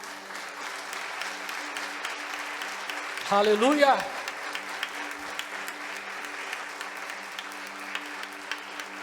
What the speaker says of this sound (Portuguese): Você pode aplaudi-lo bem forte.